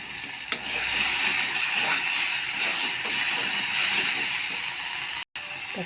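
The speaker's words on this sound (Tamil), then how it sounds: "தக்காளி நல்லா வதங்கிடுச்சு." Tomatoes sautéing in a pan for a Tamil drumstick poriyal, giving a steady close sizzle and hiss with faint stirring scrapes throughout and a brief dropout near the end.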